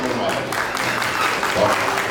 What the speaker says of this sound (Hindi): इसके लिए एक ज़ोरदार तालियां बेक कॉर्नर के लिए भी